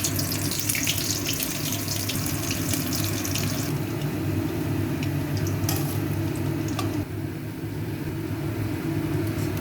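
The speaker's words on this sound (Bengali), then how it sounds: "এবার ছোট ছোট করে ছাড়বো গরম তেলে।" Prawn pakora batter fries in hot oil with a loud, continuous close-up sizzle that eases slightly partway through, and no voices.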